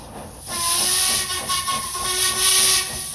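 A Thomas and Friends steam locomotive whistle shrieks in a long, sustained blast over a hissing rush of steam, loud and close, holding steady for several seconds.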